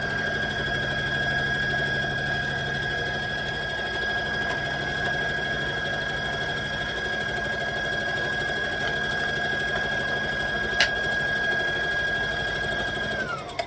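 A sewing machine stitches a fabric library bag with a steady, close mechanical whir and a constant high whine that winds down at the very end.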